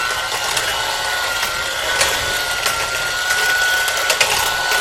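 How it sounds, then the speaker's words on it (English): Electric hand mixer beating sweet potato pie filling in a bowl, a steady close whirring buzz that runs throughout with small rattling variations. "my hand mixer. I don't usually pull out the stand mixer for this, but I'm just going to beat this up a little bit"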